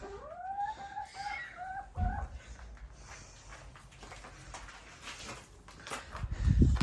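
Backyard hens in a home coop in Denmark give a few short, rising clucking calls near the start, followed by quieter rustling and a soft thump toward the end, with no clear talk.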